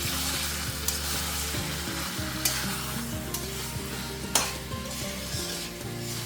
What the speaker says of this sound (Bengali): এবার চিংড়িগুলো দিয়ে দিলাম এবার আমি এরকম করে একসাথে সব কষিয়ে নেব